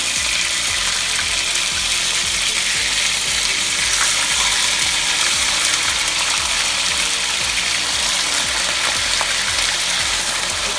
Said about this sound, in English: Let's throw in the pork chops. We got a little sizzle going on.